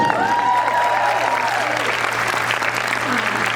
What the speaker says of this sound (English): Melanie, round of applause.